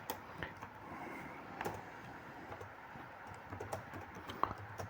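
Fingers typing on a computer keyboard, a steady run of soft close key taps with a few louder strokes over faint room hiss, no talking.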